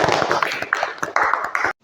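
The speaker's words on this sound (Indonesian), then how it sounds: "Tepuk tangan dulu untuk" Students in a primary school classroom burst into a short round of applause, many hands clapping close together in a quick, dense patter that stops abruptly.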